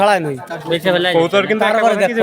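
Pigeons coo at a rural pigeon market in Khulna, a few warbling calls in close succession under and between the voices of nearby people.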